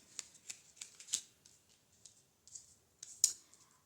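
Tarot cards are shuffled close up, giving a quick run of crisp riffling flutters and soft clicking bursts with short pauses between them, heard alone in a quiet room.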